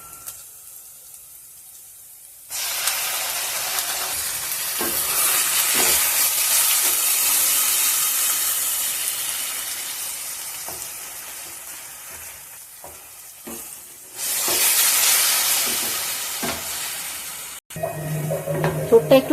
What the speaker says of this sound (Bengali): থোড়টা একটু ভালো করে কষে নেব, কেননা থোড় থেকে অনেকটা জল বেরিয়েছে।